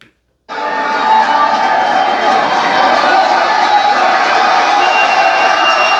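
A massive crowd at a Trump rally cheers and roars in a dense, sustained wall of noise that starts abruptly and stays loud and steady throughout.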